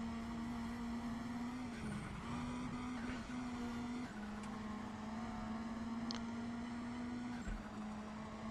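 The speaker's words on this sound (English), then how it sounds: "That chattering signature of a turbo blow off" A race car engine drones steadily at a constant pitch, with brief dips where the turbo blow-off valve or wastegate chatters, heard throughout at fairly high level.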